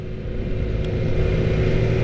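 A 2018 Aprilia RSV4 RR sport motorcycle engine running on a first ride, a loud, steady, close drone with a strong low rumble that builds slightly, no voices over it.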